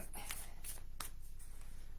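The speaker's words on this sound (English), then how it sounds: "I'm just shuffling the cards here." Work Your Light oracle cards by Rebecca Campbell are shuffled, giving a few soft, brief riffling and brushing sounds over a steady background hiss.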